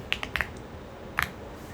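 A few quick computer keyboard keystrokes, a small cluster of clicks then two more a moment later, close and fairly faint over a quiet room.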